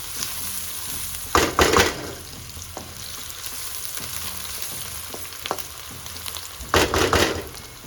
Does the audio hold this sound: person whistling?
no